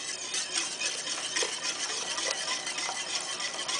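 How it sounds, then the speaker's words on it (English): Tempered eggs whisked into a pumpkin eggnog base, a fast, continuous rhythmic scratching of the whisk against the bowl, close and steady throughout, with no voices. "we're just going to whisk this into here"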